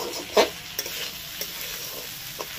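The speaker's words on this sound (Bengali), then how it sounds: "এবার ভালো করে চালটাকে ভেজে নিতে হবে ঘিয়ের মধ্যে" Rice frying in ghee in a pan for Basanti pulao, with a steady close sizzle broken by several sharp scraping stir strokes.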